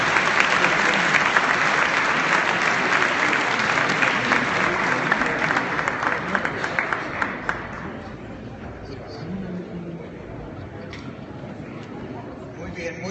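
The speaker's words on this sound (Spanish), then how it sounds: "pido, como siempre, un fuerte aplauso" Loud audience applause at a political presentation, dense clapping for about eight seconds before thinning out into scattered claps and low crowd murmur.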